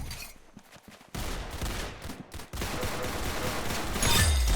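Pistol gunfire from a first-person shooter video game crackles in quick bursts of sharp shots, faint at first, then a louder, denser stretch of rapid firing and impacts.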